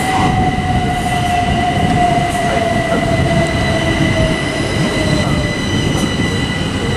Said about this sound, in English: And also arriving in is the other 1213, Southeastern service from London Charing Cross to Dover Priory.